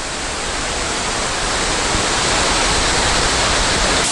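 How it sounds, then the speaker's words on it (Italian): A steady, dense roar of a waterfall in the Dolomites fills the whole clip, constant and close, with no voices or other sounds. "E questa è la seconda cascata."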